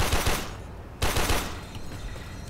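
Turret gunfire in the Warframe video game, loud close bursts of rapid shots in two volleys with a brief gap between them.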